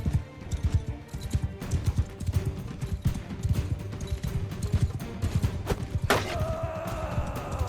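Horse hooves gallop in Mount and Blade II Bannerlord, a steady fast clip-clop rhythm running throughout at close range, with a brief sharp impact near the end.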